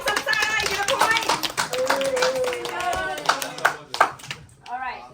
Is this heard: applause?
yes